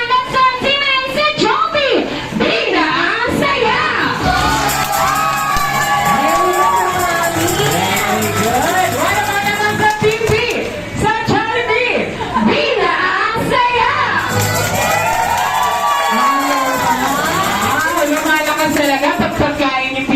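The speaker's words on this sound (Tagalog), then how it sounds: "magpapakpakan po tayo na may kasama ang sigaw" A crowd at a Jollibee birthday party in the Philippines claps and shouts together, loud and sustained, with children's voices and an amplified host speaking over the cheering throughout.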